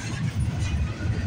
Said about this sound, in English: The symbol on this train is CPKC 132.